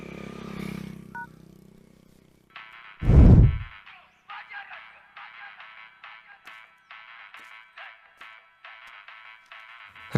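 A mobile phone left behind in a Hindi-dubbed film scene rings with a repeating electronic tone in short bursts, after a loud thump and some earlier rustling.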